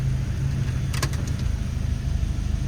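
An Audi engine idles steadily with a low rumble, and a brief mechanical clunk sounds near the middle as it is shifted into reverse.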